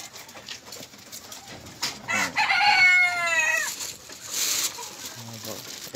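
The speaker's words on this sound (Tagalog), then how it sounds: "Ang mga manok ay mga manok." A rooster crows loudly in the middle while farm hens cluck around it, with a person talking at times in the background.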